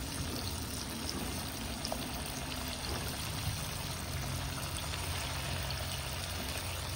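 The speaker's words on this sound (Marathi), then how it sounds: "ते मध्यम जाळावर असे मस्तपैकी तळायचे" Medu vada made from sweet corn kernels fry in hot oil over a medium flame, giving a dense, continuous hissing and bubbling sizzle close up, with no voices over it.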